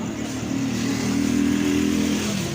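A broken-down motorcycle's engine runs loud and close, its revs swelling slightly and then holding steady against a rough mechanical rattle.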